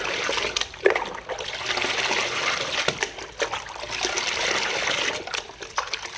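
Water is poured out of a container of about 10 to 12 litres while repotting rose plants in a garden, a steady splashing gush with trickles and brief pauses, fairly close, no talking.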